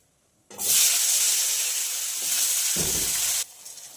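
Potato pieces dropped into hot oil tempered with cumin and radhuni, erupting into a loud, bright sizzle that holds steady, briefly stirred, then cuts off abruptly.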